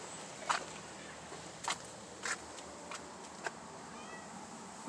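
A cat meows several times, short faint calls spaced out over a quiet background.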